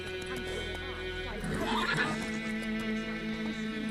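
A horse in the video game Witcher 3 neighs loudly with a drawn-out whinny in the middle, while hooves clop and the game's music and ambience play underneath.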